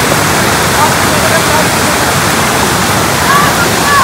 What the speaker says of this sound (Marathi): असा धबधबा आहे, खूप छान आहे.